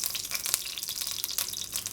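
Mustard and fenugreek seeds splutter and crackle in hot coconut oil in a small pan, a dense, steady popping sizzle heard up close, with no talk.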